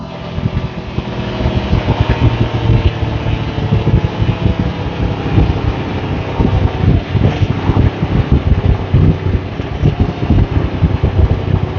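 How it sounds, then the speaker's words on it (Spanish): A Keeway MBP M502N motorcycle engine runs loudly and continuously up close on a dyno, a dense rumbling roar with a steady rapid pulse throughout. "esta moto, al no contar con embrague antirrebote, la hemos podido arrancar"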